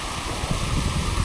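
A strong, forceful stream rushes through a forest, its steady broadband roar of churning water continuous and close throughout, with no voices over it.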